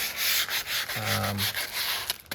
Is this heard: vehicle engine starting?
no